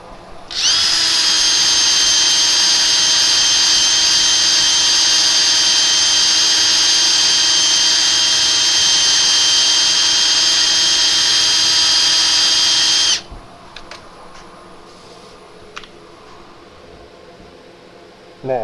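A power sander with 120-grit paper works a lacquer finish, a loud, close, steady high whine that runs unbroken for about thirteen seconds, then cuts off, leaving faint handling clicks in a quiet room.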